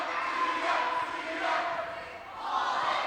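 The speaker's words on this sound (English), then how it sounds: "the chanting of her name disrupted her foul shot" Basketball crowd at a girls' high school game chanting a player's name during her foul shot, a loud sustained roar of many voices rising and falling in waves.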